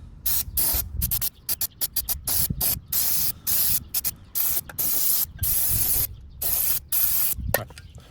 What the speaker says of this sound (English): Try to spray this thing out a little bit so all this gunk and shit doesn't get in my engine.